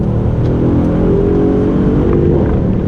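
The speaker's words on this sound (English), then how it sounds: "You hear a little bit of bark from that exhaust" A 2018 Mercedes-AMG GLE 63 S Coupe SUV engine revs and accelerates with a throaty exhaust bark, loud and close, steady low-end growl throughout.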